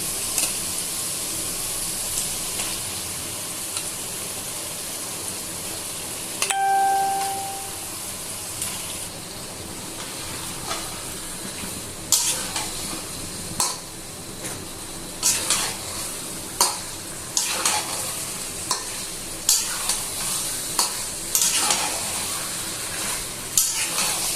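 Chicken pieces sauté in a pan with red chillies and spices for a Bengali-style chicken curry, a steady sizzle running throughout with repeated scraping stirs of the spoon growing sharper and more frequent toward the end.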